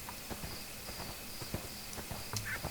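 A horse walks along in the ArcheAge game world, hooves clip-clopping in a steady, light rhythm over a faint ambient background.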